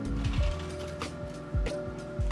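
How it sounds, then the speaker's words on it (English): Photo lab film printer at a colour centre running, with repeated mechanical clunks and ratcheting gear movements recurring about every half second over a steady machine hum, close and moderately loud. "it will be printed on a printer such as this, and this is a printer."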